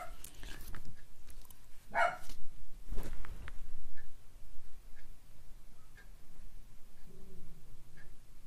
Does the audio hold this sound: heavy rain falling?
no